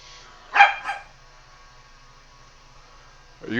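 Two quick, fairly loud dog barks come close together near the start, followed by a quiet stretch with a low hum, then another bark-like sound rising at the very end.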